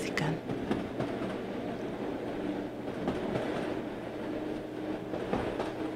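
A train rumbles steadily along the rails, with rhythmic clacking of wheels and a constant low roar close by throughout.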